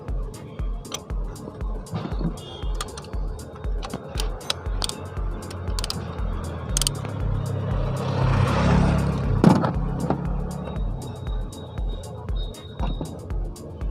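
During a CNG kit installation on a Renault Triber, a plug is worked loose with a tool, giving close, repeated ratcheting clicks and creaks in a steady rhythm, with a brief louder mechanical swell near the middle.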